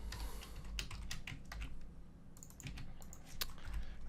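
Fast, irregular clicks of keys being typed on a computer keyboard, close and quiet, with short pauses between bursts and no voice.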